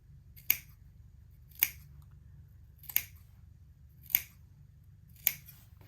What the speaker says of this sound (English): Don't cut your stitch line, just cut it around so you have a couple little snips in it.